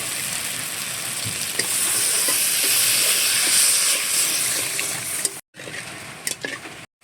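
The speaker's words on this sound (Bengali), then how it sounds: "এরকম তেল ছেড়ে দেবে, সেই সময় কিন্তু জল দিয়ে দিতে হবে পরিমাণ মতো।" A loud, steady hiss of water hitting frying spice paste in a hot pan, continuous for several seconds with a few brief cuts near the end.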